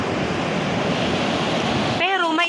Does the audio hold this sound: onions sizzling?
no